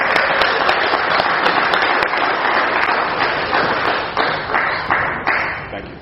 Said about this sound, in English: Please give a round of applause to Marko.